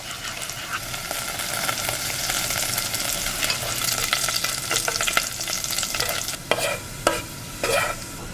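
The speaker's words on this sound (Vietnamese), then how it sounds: "Đảo đều với lửa nhỏ cho đến khi hành tỏi chuyển vàng thì mình tắt bếp ngay." Steady crackling sizzle of shallots and garlic frying in hot oil over low heat, with occasional scraping stirs near the end.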